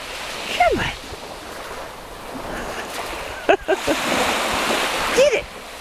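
Atlantic Ocean surf washes steadily onto a beach, a continuous broad wash of waves with wind, while someone talks excitedly and a dog's sharp yelps rise briefly over the water.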